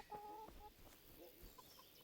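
A chicken in the video game Kingdom Come Deliverance gives a few soft, throaty clucks at a fair distance, spread across two seconds against a faint, steady ambient background.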